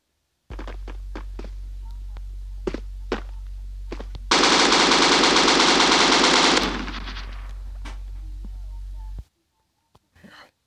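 M60 machine gun fired in the video game Bullet Force: one dense, loud sustained burst lasts about two seconds, set against quieter game background noise with scattered shots.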